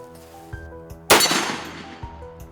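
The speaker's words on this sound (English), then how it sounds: "Shoot one more and you're good to go." A single sharp, loud 30-30 handgun pistol shot rings out during a wild boar hunt, a sudden crack followed by a decaying tail, with quieter background noise and small knocks before and after.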